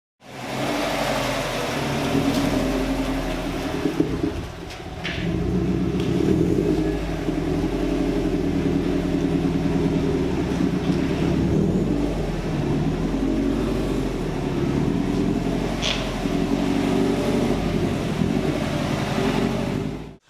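A Subaru WRX/STi engine rumbles loud and close through short acceleration pulls, the deep drone swelling and easing in a few surges with brief lifts between them, and no voices.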